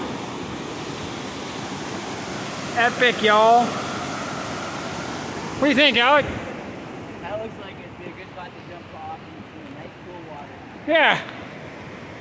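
The Stehekin River roars steadily through a gorge below a bridge while people talk and exclaim over it, with wind buffeting the microphone.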